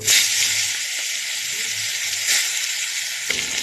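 Fish frying in oil in a pan, giving a loud steady sizzle and hiss close up that runs throughout with slight swells, with no voices over it.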